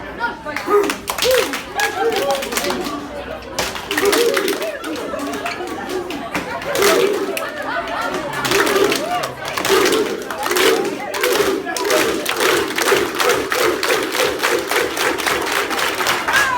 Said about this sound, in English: please follow me with a bit of a Icelandic clap